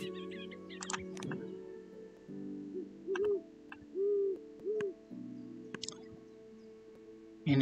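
Owl hoots from the Wingspan board video game sound as three short, soft, evenly spaced calls, surrounded by light game interface clicks and tones over a steady background.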